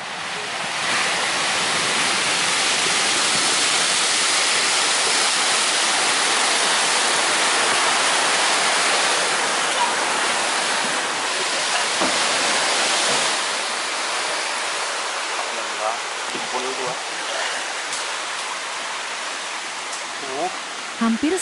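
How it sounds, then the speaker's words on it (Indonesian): Large bono tidal bore wave surging up a river in Indonesia and crashing toward houses on the bank, a loud continuous roaring rush of churning water that fills the whole scene and eases slightly near the end. "Hampir saja masuk ke dalam rumah, guys, saking besar ombak bononya."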